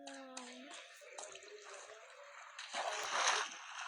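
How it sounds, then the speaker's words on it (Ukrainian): Water uncovered while digging in Minecraft: sloshing, splashing game water sounds over a steady watery wash, swelling louder near the end, with some tonal game sounds at the start. "я розкопав воду!"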